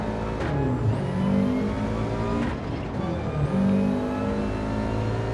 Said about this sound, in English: That Subaru sounding like it's having a few issues